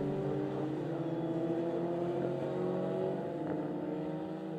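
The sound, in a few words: Formula Ford race cars passing through Craner curves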